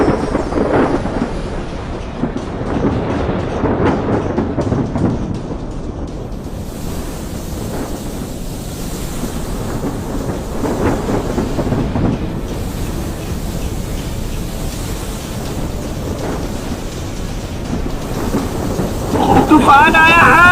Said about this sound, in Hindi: तभी बीच समुद्र में अचानक भयानक तूफान आ जाता है।